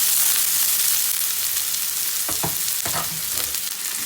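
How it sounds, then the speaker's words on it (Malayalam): Onion and potato fry in oil for poha, a steady close hiss of sizzling with a few scraping stirs of a spoon in the pan near the end. "ഒണിയനും പൊട്ടറ്റോയും നല്ലതായിട്ടൊന്ന് ഇളക്കി കൊടുക്കാം."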